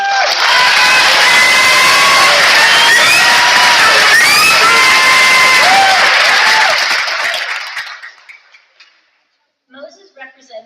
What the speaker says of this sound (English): So let's give Moses a round of applause.